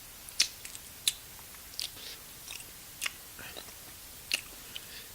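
Someone chews an everything bagel close up, with soft irregular crunches and wet bites spaced a second or so apart over quiet background noise.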